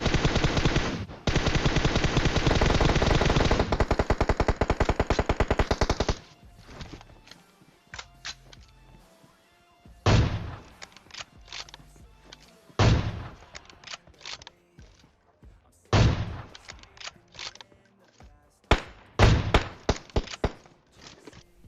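Gunfire in the PUBG Mobile shooter game: a sustained, rapid automatic burst of about five seconds, followed by four or five single heavy sniper shots spaced a few seconds apart, with quiet gaps between them.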